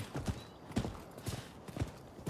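Rhythmic clip-clop of horse hooves at a steady trot in the PS5 video game Rise of the Ronin, fairly soft and close, repeating in quick pairs throughout.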